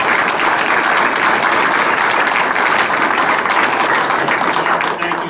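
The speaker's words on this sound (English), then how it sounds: "So give that young man a round of applause." Dense, steady applause from a council meeting audience honoring a young man's Eagle Scout award, loud and sustained throughout without a break.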